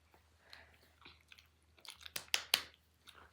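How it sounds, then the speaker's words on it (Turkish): Close, crisp bites and crunchy chewing of food, a few soft munches followed by several sharp loud crunches, quiet between them with no talking. "O zaman alıyorum ısırık."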